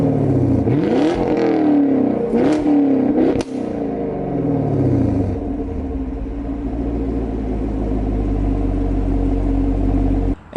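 A Chevrolet Camaro SS with the exhaust-valve fuse removed so the valves stay open, revving loudly twice at close range, then a sharp burst as the engine settles into a low, throbbing idle rumble.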